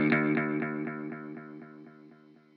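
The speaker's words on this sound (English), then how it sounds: "And then to get an even longer tail, a digital delay with more feedback." A fuzzy, sustained guitar pad chord fed through an analog delay and then a long-feedback digital delay, its repeats pulsing about every quarter second and slowly fading away alone.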